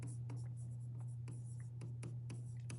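A pen scratches a math formula onto paper in quick, close strokes and short bursts, with faint pauses between marks over a low steady hum.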